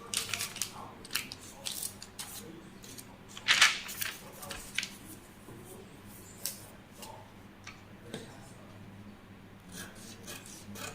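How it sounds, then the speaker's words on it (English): Scissors snip through a paper corset pattern at close range, quiet intermittent cutting and rustling strokes with one sharper crisp slice, faint and spread unevenly across the moment. "So I'm cutting out the pattern."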